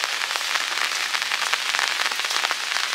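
Rain falls steadily over a village with waterlogged paddy fields, a dense, even patter and hiss that continues without a break.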